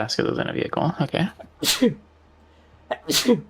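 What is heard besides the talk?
sneeze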